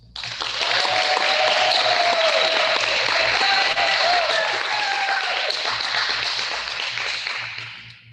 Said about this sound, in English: Please give a round of applause for our first grade Rising to Excellence students